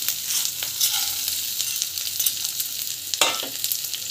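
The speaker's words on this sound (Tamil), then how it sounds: "காஞ்சி பிறகு கடுகு சேர்க்கும் போட்டுட்டு நல்லா வந்து பொறிட்டோம்." Mustard seeds and other ingredients fry in hot oil, a dense, continuous crackling sizzle with small pops and the occasional stir, close and steady.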